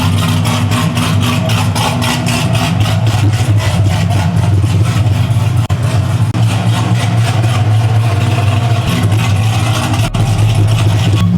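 A modified 1969 Camaro SS with a 700+ horsepower engine idles loudly and steadily up close, its deep lumpy rumble continuous throughout with no voices over it.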